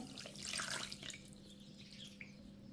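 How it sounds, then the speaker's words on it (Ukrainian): Warm water is poured into a bowl of eggless, dairy-free chocolate plum cake batter with vanilla sugar and plum jam, a steady close trickle with splashy bursts early on and no talking. "Висипаю ванільний цукор, виливаю тепленьку воду"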